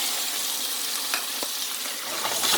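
Vegetables sautéing in heated oil with a bright, steady sizzle, a couple of soft stirring knocks breaking through the crackle.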